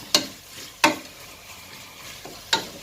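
Ginger garlic paste frying in a pan for mushroom biryani, with three sharp spoon scrapes against the pan spaced apart over a low steady sizzle, no talking.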